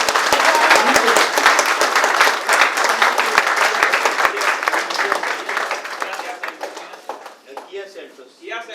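A crowd at a hotel event applauds heavily and continuously, then tapers off over the last couple of seconds as a voice speaks over the dwindling claps.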